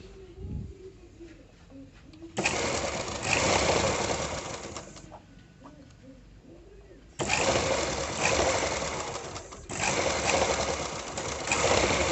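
Sewing machine stitching thread piping on a blouse, running in two loud sustained bursts of rapid mechanical whirring separated by a quieter pause, with faint bird cooing in the background.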